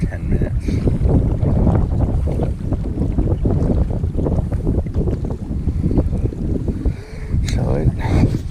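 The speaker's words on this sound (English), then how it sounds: "Every once in a while, them gusts show up in the last" Gusty wind buffets a boat on a lake during bass fishing, a loud continuous rushing roar with wind noise hitting the microphone throughout, rising and falling slightly in gusts, with occasional faint voice sounds mixed in.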